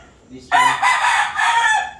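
A super brown red gamefowl rooster gives a single loud, close crow lasting about a second and a half, with a faint cluck just before it.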